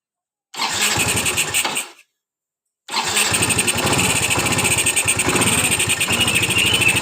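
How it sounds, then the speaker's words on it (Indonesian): A Yamaha Mio 125 motorcycle engine with a dirty throttle body and an unstable idle sputters to life, cuts out after a moment, then starts again and settles into a steady, loud chugging idle. "Yang penting motor hidup dulu lor."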